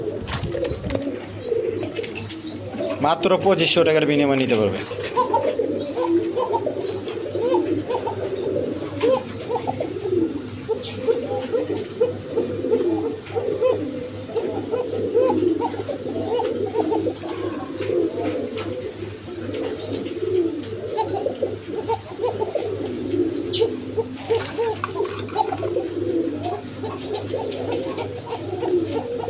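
A pair of Koka pigeons coos steadily through the clip, low rolling calls repeating under a voice, which talks for much of it.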